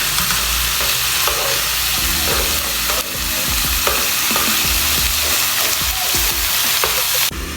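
Pork pieces for Filipino adobo sizzle loudly and steadily in a hot pan, with repeated scraping and stirring knocks as the meat is turned, and no talking.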